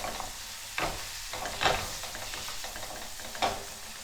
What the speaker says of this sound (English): just start mashing them right in the pan